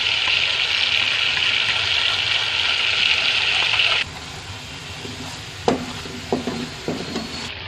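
Ground coriander, cumin, red chili and salt fry in hot oil in a pan, giving a loud steady sizzle that drops away halfway, followed by a few sharp clinks and scrapes of a spoon against the pan.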